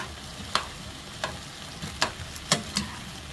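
Eggplant is stir-fried with soy sauce in a pan, with a soft continuous sizzle beneath sharp, irregular clacks of a utensil scraping and tapping the pan.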